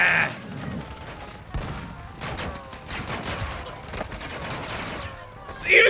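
Modern Warfare 2 gunfire in an online match, repeated bursts and scattered shots of varying distance, with a voice speaking at the start and end.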